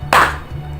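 A single sharp hand clap rings out close and loud as one beat of a classroom rhythm exercise, alone with a faint low hum under it.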